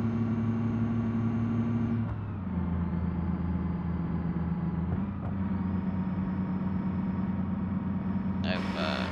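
A small car's engine labours uphill in sixth gear, holding a steady low drone that dips and shifts as the load changes, continuous and close throughout with no speech.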